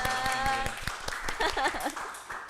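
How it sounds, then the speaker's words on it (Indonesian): Students of Moklet, SMK Telkom Malang, are clapped for by a podcast audience, with clustered hand claps sounding close and moderately loud over a steady tonal hum, fading into scattered claps near the end. "boleh dong tepuk tangan untuk Mock Letters"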